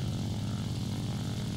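Steady drone of a La-5F propeller fighter engine in the War Thunder flight game, even and continuous at moderate level with no talk over it.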